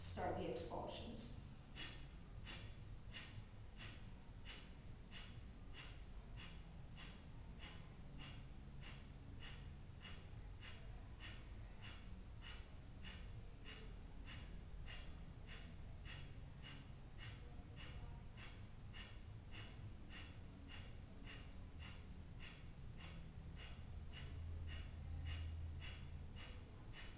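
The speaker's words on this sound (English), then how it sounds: "I'm doing about 30 seconds of Kapalabhati. So start the expulsions." Kapalabhati yoga breathing: a long, steady series of sharp, forceful nasal exhalations, roughly one or two per second, each a quick close puff repeated for nearly half a minute.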